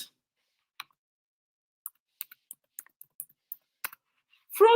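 Quick bursts of clicks on a computer keyboard while typing into a browser search bar, a dozen or so light, crisp keystrokes spaced irregularly, close and clear in an otherwise quiet room.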